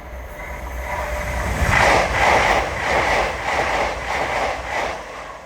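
An LNER Azuma train on the East Coast Main Line runs through Alexandra Palace station, a steady rushing roar that swells at about two seconds, then holds with a rhythmic beat of wheels passing over rail joints, fairly close and with no voices.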